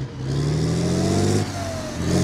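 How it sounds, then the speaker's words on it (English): A Challenger tank engine in the game Squad rumbles with a deep, steady drone, rising slightly in pitch as it revs, heard close and alone without talk. "here's a comparison of the Challenger engine so you can tell the difference"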